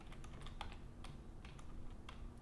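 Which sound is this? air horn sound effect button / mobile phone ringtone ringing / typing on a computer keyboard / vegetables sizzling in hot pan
typing on a computer keyboard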